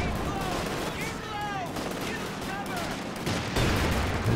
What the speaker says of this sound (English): Machine gun focuses on the Panzer IV instead.